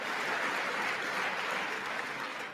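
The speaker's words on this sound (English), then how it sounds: "Applauding order followers." Sustained applause fills a State of the Union chamber, a dense, even wash of many hands clapping at steady loudness for the whole stretch, tapering slightly at the end.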